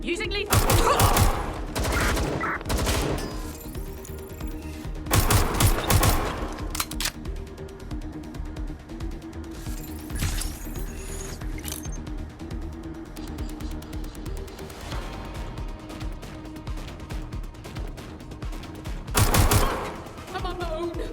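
Gunfire rings out in the Watch Dogs Legion video game, with dense bursts of automatic weapon fire and fusillades recurring in loud waves over a continuous combat din, while voices call out between the shots.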